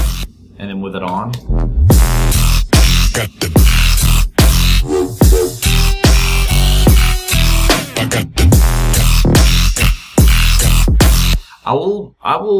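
A self-produced electronic song with mastering applied plays loud and full, dense punchy beats and bass driving a steady rhythm with sharp breaks and dropouts, ending in a brief near-silent gap and a tail of sound.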